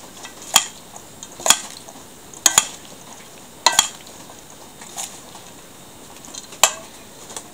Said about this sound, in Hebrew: קצת מערבבת.